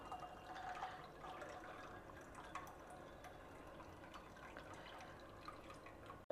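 Herbal cinnamon tea pours into a glass over ice cubes, a faint, steady trickle of liquid that runs for several seconds in a quiet room.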